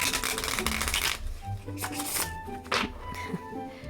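Flexible all-plastic playing cards are riffle-shuffled in a burst of dense crackling flutter for about a second, then cards are handled and tapped, with softer riffles and clicks following.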